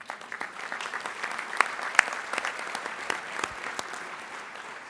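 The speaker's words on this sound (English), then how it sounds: "give yourself a round of applause" A crowd at an awards event claps in a sustained round of applause, many hands at once, steady and fairly distant, with a few sharper claps standing out.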